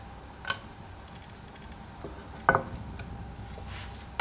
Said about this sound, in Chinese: 同样，锅热放饼。